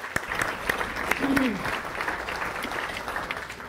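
Applause from a civic audience at a State of the City event, a moderate wash of clapping with a few sharper claps, while a voice speaks briefly over it.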